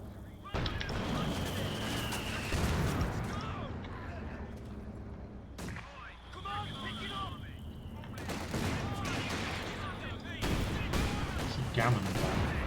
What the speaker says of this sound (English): there's that bloody mortar